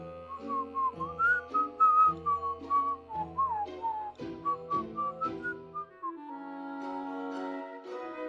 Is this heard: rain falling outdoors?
no